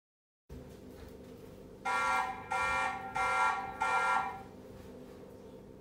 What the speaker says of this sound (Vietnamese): Khi báo động thì âm báo động của camera Turbo C200 nó sẽ phát ra theo hai hồi ngắn